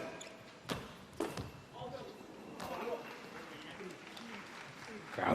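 A goalball ball thrown and rolling across the court during a men's Paralympic gold medal match between Ukraine and Japan in Paris, with a couple of sharp impacts and a jingling roll under steady commentary and soft crowd noise.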